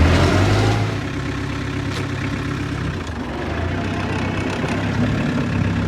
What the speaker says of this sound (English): let it warm up here. It does not like starting cold when the glow plugs have not warmed up.